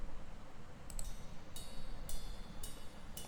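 A lone cymbal stem, panned left with no EQ, rings in regular bright hits about every half second over a low, noisy background, fairly faint.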